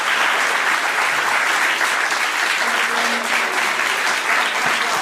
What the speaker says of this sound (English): Let's see if we can get everybody on their feet for a big round of applause.